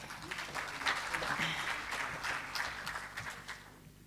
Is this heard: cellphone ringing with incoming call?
no